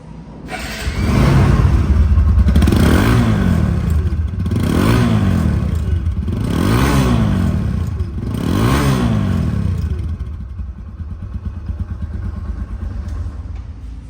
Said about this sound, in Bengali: এখন বাইকটি সাউন্ড কোয়ালিটি শোনাবো